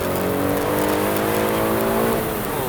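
An Aston Martin DB12 Volante engine revs hard and surges as it launches, loud and close, with a rising, strained roar.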